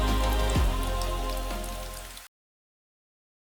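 Steady rain falls as a dense, loud hiss with a brief low thump early on, continuing alone for about two seconds before cutting abruptly to silence.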